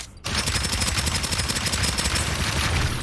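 A high fire-rate gun in Starsiege: Deadzone lets loose a fast, unbroken stream of rapid shots, loud and close, each crack evenly spaced in a tight mechanical rhythm.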